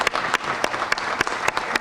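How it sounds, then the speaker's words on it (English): Audience at a Chester Upland School District all-classes meeting gives a brisk round of applause, steady dense clapping throughout with a few sharper individual claps standing out. "round of applause"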